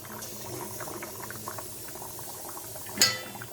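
Chickpeas boil in a pot over a medium gas flame, giving a continuous soft bubbling and simmering hiss with a brief sharper clink near the end.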